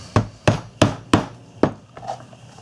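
A 9 SPI stitching iron is struck through leather with five sharp, evenly spaced mallet blows in close succession, then a fainter trailing knock, loud and near with no talking.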